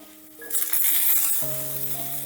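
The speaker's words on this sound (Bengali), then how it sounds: "এবারে ওই তেলেই ভেজে নেব বেগুনগুলো" Sliced eggplant with salt and turmeric dropped into hot oil, a sizzle that swells after a brief pause and then settles into a steady hiss, close by, with light tonal music underneath.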